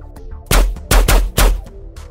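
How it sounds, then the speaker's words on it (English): Three loud, close gunshot bursts, the middle one a quick double, cracking out over a quiet background during an SAS-style compound raid on an upstairs room. "Gunshots ring out."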